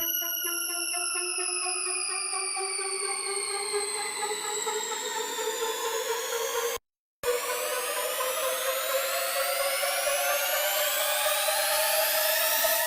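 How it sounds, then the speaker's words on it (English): Risers with downward and upward filter sweeps from an electronic dance build-up glide in long steady tones, broken by a brief gap, then sweep on continuously with no talking. "I also added some risers, down filters, and up filters"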